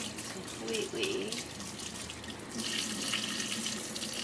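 Tap water runs steadily into a sink while gouache is rinsed off paper, a continuous hiss and splash that grows slightly stronger partway through, with no speech.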